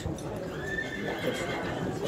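A horse whinnies at an outdoor horse market in Sokuluk, one drawn-out neigh rising above a background of crowd murmur and distant hoof clatter, moderately near.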